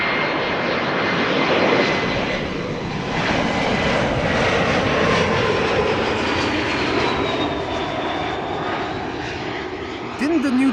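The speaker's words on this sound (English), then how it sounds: "Stein says, first time seeing the German Airways livery operated by KLC. That's KLM City Hopper" An Embraer jet in German Airways livery, operated by KLM Cityhopper, at Amsterdam Schiphol Airport gives off a loud, steady engine roar with a rising whine, and people talk over it.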